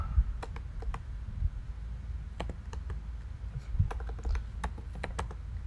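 Keys clack on a computer keyboard as a swatch name is typed in Adobe Illustrator, a quiet, irregular run of light, close taps with short pauses and no talk.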